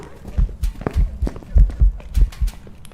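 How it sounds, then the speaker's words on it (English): Footsteps of a ghost in Phasmophobia: about eight heavy, low thuds at a steady walking rhythm, clear and close, with light background noise. "I'm able to hear those footsteps from pretty far away"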